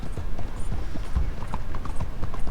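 Horse hooves clip-clop in a video game, a steady rapid run of loud, close knocking beats with faint mechanical clatter underneath.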